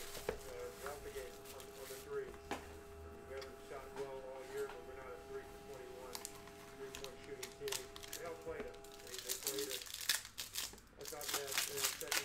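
Packs of 2013-14 Panini Timeless Treasures basketball trading cards are torn open, making close, continuous crinkling and ripping of foil wrappers over steady background tones, with a burst of louder tearing toward the end.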